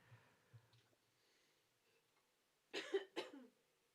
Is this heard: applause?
no